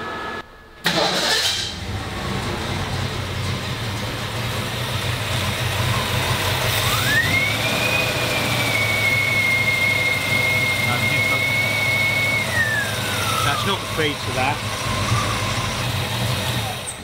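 A 1957 Ford Ranchero engine runs steadily and misfires throughout the rev range, with a low rumble held for the whole stretch and a rising then falling rev in the middle, while someone talks over it.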